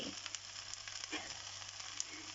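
Ginger and seasoning sizzle steadily in a hot pan while prawns and glass noodles cook, a soft continuous hiss with a few small pops and stirring clicks and no talking.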